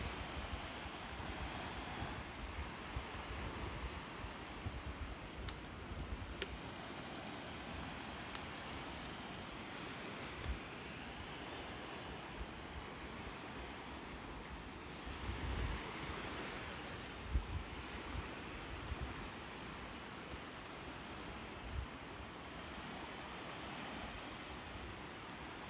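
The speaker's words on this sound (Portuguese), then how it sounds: "Som do mar, a lua no céu." Soft, continuous sea surf washes on a beach at night in São Miguel dos Milagres, Alagoas, Brazil, in the distance under gusts of wind buffeting the microphone, with no talking.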